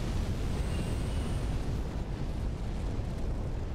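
A fire attack blast in Dark Souls 3 makes a steady, roaring whoosh of flame and rumble that runs through the whole clip at moderate loudness, with no voices.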